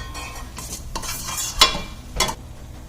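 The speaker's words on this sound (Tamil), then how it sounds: "இந்த எண்ணெயில் போட்டு நல்லா கொஞ்சம் வதக்கி விட்டோம்" Ingredients for a large batch of vatha kuzhambu are sautéed in oil in a pan: close, irregular scraping stirs over a soft sizzle, with no one talking.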